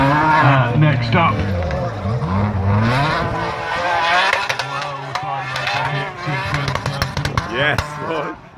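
A modified race car at the King of the Hill event, heard going over a bridge with off-grip engine noise rising and falling and faint tire squeal. Commentators talk loudly over it throughout.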